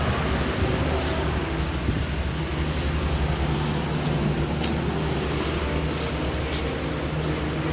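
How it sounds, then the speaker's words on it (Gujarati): Strong wind blowing through a temple garden, a steady, loud roar of buffeting air across the whole stretch with no letup and no clear voices. "પવન બહુ આવે છે, અવાજ આવે કે નહીં આવે."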